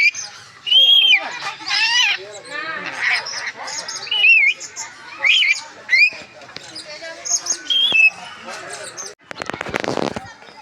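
Colourful birds at a zoo give loud, varied chirps, whistles and squawks in bursts, close by, with people talking in between and a brief rustling clatter near the end.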